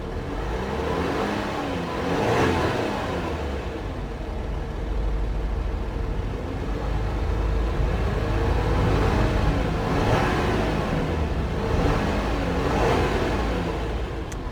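2011 Volkswagen Touareg 3.0 V6 TDI BlueMotion diesel revving repeatedly up to its 2,500 RPM limiter, several rising surges that fall back between them, close and loud with no talk.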